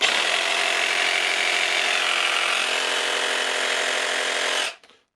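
A repaired battery-powered reciprocating saw runs continuously for about four and a half seconds at steady loud speed, then cuts off abruptly and winds down to silence.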